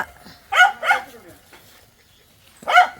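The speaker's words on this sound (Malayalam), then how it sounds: "അപ്പൊ കുഞ്ഞാമ പോകുന്നത് നന്ദനെന്ന് പട്ടിയാണ്" A dog barks twice in quick succession, then once more after a short pause, fairly close and loud over a quiet background.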